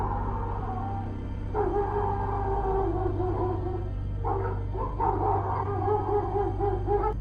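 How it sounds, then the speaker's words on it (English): Neighborhood dogs bark and howl at night in a residential area, sustained tonal calls in two long bouts from middle distance over a steady low hum. "leaving all the neighborhood dogs barking behind it"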